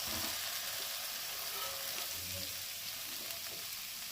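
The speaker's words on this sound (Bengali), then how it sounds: "এবারে আমি ভেজে রাখা আলু ফুলকপি এর মধ্যে মিশিয়ে দেবো" Fried potato and cauliflower pieces being mixed into a sizzling pan of vegetarian curry, a soft steady frying hiss with faint stirring bumps, close and low in level, with no voices.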